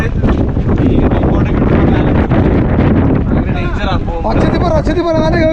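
Strong monsoon wind buffeting the microphone high on Harihar fort, a loud continuous roar and rumble throughout, with a person talking over it.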